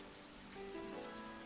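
Rain falling at dusk in the video game Atelier Ryza 2, a soft, steady patter at low volume with a faint tonal game sound drifting in partway through.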